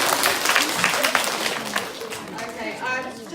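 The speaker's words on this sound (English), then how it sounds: "Give Miss Ghazi a round of applause." An audience at a school awards ceremony breaks into applause, a dense burst of clapping that swells and then thins out over a few seconds, with some chatter mixed in.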